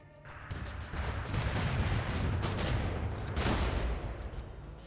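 Gunfire in the video game RimWorld during an assault rattles as a dense, continuous fusillade of overlapping shots and blasts, fairly loud and sustained for several seconds.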